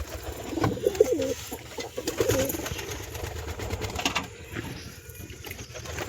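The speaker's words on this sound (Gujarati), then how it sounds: "લાલ કબૂતરની જોડ છે" A pair of red pigeons coo in low, repeated throaty phrases close by a nest with eggs, with rustling and faint background noise around them.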